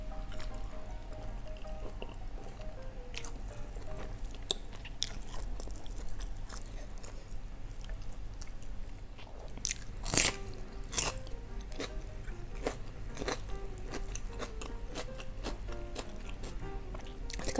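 Close-up eating of tender gepuk sapi beef with sambal terasi: soft wet chewing and occasional crisp bites and clicks, steady and intimate, with faint background tones and no talking.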